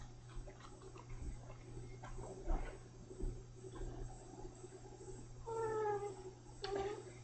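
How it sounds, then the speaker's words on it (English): A house cat meows a few times near the end, short rising and falling calls close by over a steady low electrical hum and faint scratchy room sounds. "came over here and started meowing at me again"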